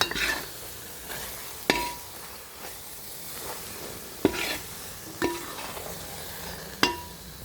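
Jackfruit halwa cooking down in ghee, stirred with a utensil that knocks and clinks against the pan every second or so over a low background sizzle, nearby and without voices.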